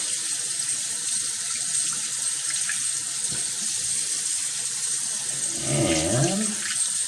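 Running tap water splashes steadily over gear being rinsed of soap, with a fuller gush of water near the end; no one speaks.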